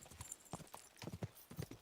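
Horse hooves clip-clopping in the video game Kingdom Come Deliverance 2, a quick uneven run of soft hoof beats, faint and brief with no talk over them.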